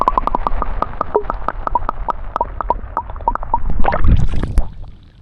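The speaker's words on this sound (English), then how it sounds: "We're going to go for a camera dip test." A camera is dipped into clear lake water in Japan, giving a rapid string of regular bubbly clicks, then a louder gurgling, sloshing burst as it goes under before fading out; no voices.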